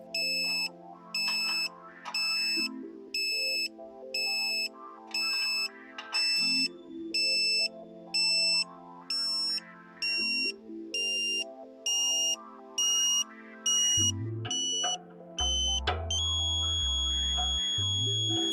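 A satellite finder's regular electronic beeps repeat about twice a second, high and piercing, then shift into a continuous steady tone near the end.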